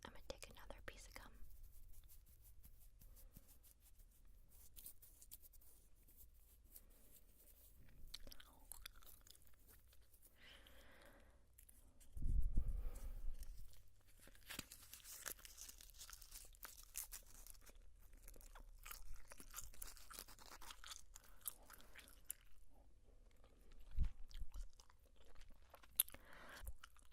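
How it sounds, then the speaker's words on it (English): Soft, close gum chewing with moist smacks and clicks, running quietly under a whispering voice throughout. "I'm gonna take another piece of gum."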